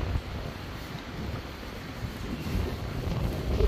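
Wind buffets across a rooftop on a windy, rainy day, a steady low rumble with blustery noise against the microphone and no talking.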